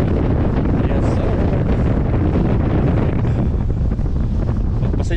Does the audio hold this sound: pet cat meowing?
no